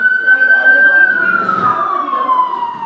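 An emergency vehicle siren wails outside an open classroom window in New York City, a loud steady tone slowly falling in pitch, with traffic rumble beneath and faint talk in the room.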